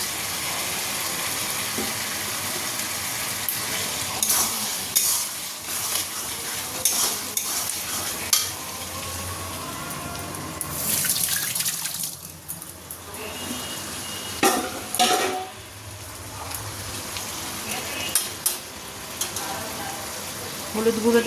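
Chicken pieces frying in a pan with onion and spice masala make a loud, continuous sizzle and crackle, broken up by repeated stirring and scraping with a spoon.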